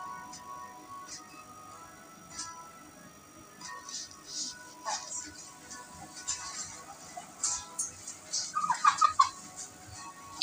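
Chickens and ducks kept at an egg stall in an Australian Sunday market give off scattered clucks, louder in a brief burst near the end, over a steady bed of crowd and market noise.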